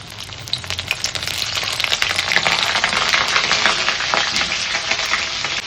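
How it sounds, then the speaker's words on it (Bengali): Cauliflower florets dropped one by one into hot oil for a cauliflower curry, a loud, close crackling sizzle that swells and stays dense throughout, with small clicks of pieces landing. "এই অবস্থাতে আমি এক এক করে ফুলকপিটা দিয়ে দেবো।"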